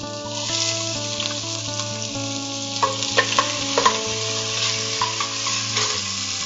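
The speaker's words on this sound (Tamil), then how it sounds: "இப்படி அந்த வெங்காயம் பொரியும் போதே புதினா" Chopped onions fry in hot oil with cinnamon, cloves and cardamom for a millet pulao, a steady close sizzle throughout with a few sharp spatula scrapes and clicks in the second half, no talking.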